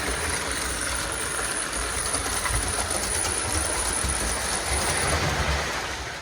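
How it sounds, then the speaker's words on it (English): A Lionel toy train runs across its track with a steady, continuous rumble and whir that stays loud and even throughout, without any talk. "So now this one is set up where the train runs across the track."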